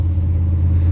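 An old Chevy with a 5-speed manual climbs a mountain road on nearly new snow tires, its engine a steady, loud low rumble held without a break.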